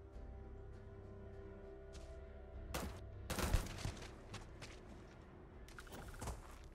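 Tombstone gun firing in Starfield during a bank heist: a few sharp, loud shots and thuds in the middle and near the end, over a low steady background hum.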